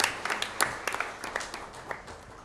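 Sparse, scattered clapping from a small seated audience at a productive-business training graduation event, a few light claps rising and fading over a couple of seconds.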